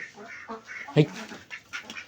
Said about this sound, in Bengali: এখানে হাঁস চলে আসছে,